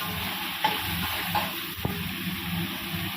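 Prawns sautéing briefly in a pan, a soft steady sizzle with a few faint stirring knocks, close and alone without voices.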